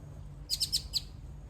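Small birds chirping outdoors, a short burst of four quick high tweets in the middle over a low steady background hum, fairly faint, with no voices.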